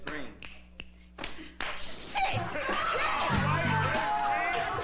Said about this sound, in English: she keeping that snap up. That clap up.